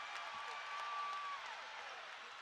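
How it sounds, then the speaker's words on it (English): Crowd noise fills a college basketball arena during a USC versus LMU men's game, a steady distant roar that stays faint and even throughout. "and listen to this crowd."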